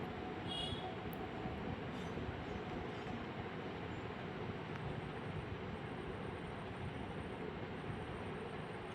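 A passenger train runs on rails between stations on a late-running trip toward Medinipur and Kharagpur, giving a steady, loud, continuous rumble and rattle of wheels and carriages throughout, with a faint brief squeal early on and no talking.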